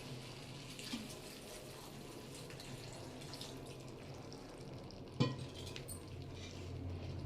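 Water runs steadily into a cooking pan of guar bean vegetable, a continuous quiet splashing pour with a single clink partway through.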